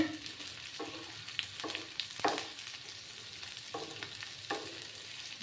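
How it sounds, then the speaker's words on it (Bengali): Sliced onions and capsicum fry in a pan for a spicy potato masala, a steady close sizzle broken by a few sharp stirring scrapes, with no voices. "পেঁয়াজগুলোকে এবার ভেজে নেব একটু"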